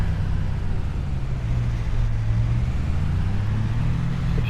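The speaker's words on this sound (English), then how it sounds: "this truck can make it up there." A truck in Farming Simulator 25 labours uphill with a steady, loud, low engine drone that barely changes pitch across several seconds.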